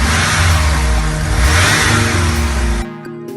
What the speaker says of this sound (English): the engine was up and running again